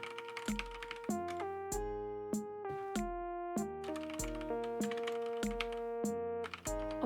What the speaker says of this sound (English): Oh god, I feel like my keyboard is way louder now.